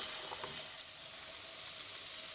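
Potatoes frying in a generous pool of oil in a skillet, giving off a steady, faint hiss and crackle with a few brief pops near the start.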